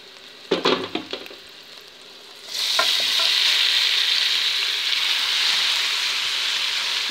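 Diced turnip and celery dropped into hot oil in a frying pan, a few knocks and stirring clatters first, then a loud, steady sizzle that keeps going without any talking.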